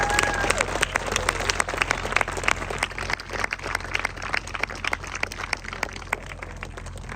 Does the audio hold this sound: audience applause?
yes